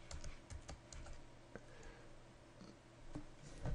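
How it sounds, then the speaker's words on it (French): Quick bursts of keystrokes come from a computer keyboard as a file name is entered in a web browser, with light, close, irregular clicks over a quiet background. "Et nous allons taper ici notre nouveau fichier"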